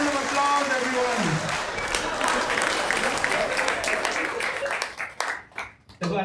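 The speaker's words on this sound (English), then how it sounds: "for the huge round of applause," Steady applause from a stand-up comedy audience carries on for several seconds before thinning into scattered claps and fading, with speech beginning toward the end.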